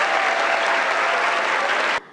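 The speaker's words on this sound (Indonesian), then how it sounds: "Ayo beri tepuk tangan yang paling meriah untuk kita semua hari ini." Lively audience applause at a musical drama show, a dense continuous clapping from a large crowd that cuts off abruptly at the end.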